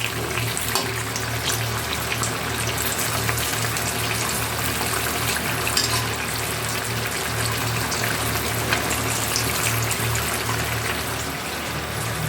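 Eggplant pieces fry in hot oil, giving an even, hissing sizzle that carries on steadily and close by, with no one talking.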